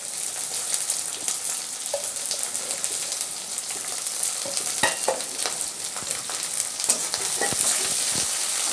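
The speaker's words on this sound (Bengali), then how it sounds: "এটাকে এবার আমি একটুখানি ভাজা ভাজা করব।" Two finely chopped onions frying in a pan for a soya chunk and potato curry, a steady close sizzle with scattered pops and crackles and occasional stirring knocks, no voices.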